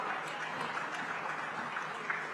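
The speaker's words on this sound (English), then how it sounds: "With a big round of applause," Audience at a Government of Odisha tourism session applauding a panel guest: dense, even clapping from a crowd, sustained throughout at moderate distance.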